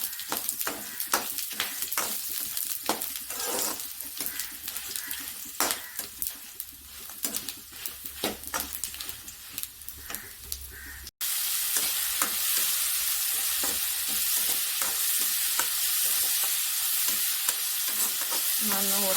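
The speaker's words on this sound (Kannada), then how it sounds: "ಈರುಳ್ಳಿ, ಟೊಮೆಟೊ, ಬೆಳ್ಳುಳ್ಳಿ, ಹಸಿಮೆಣಸು ಮತ್ತು ಶುಂಠಿ ಇವನ್ನೆಲ್ಲ ಒಟ್ಟಿಗೆ ಸೇರಿಸಿ ಹುರಿದುಕೊಳ್ತಾ ಇದ್ದೀನಿ." Onion, tomato, garlic, green chilli and ginger frying together in a pan for a fish sambar, a continuous close sizzle broken by repeated spoon scrapes and stirring clatter, growing louder and hissier after a brief cut partway through.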